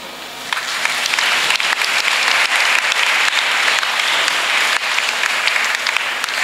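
Audience at a church youth gathering in Côte d'Ivoire bursts into loud, sustained applause and cheering that fills the space without letup for several seconds.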